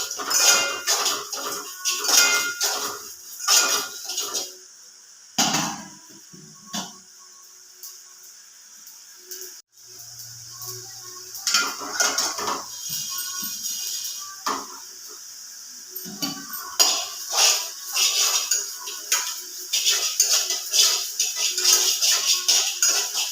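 Sesame seeds roasting in a pan for tomato chutney, with a continuous close scraping and rattling of a metal spoon against the pan and faint sizzling, briefly pausing midway before resuming.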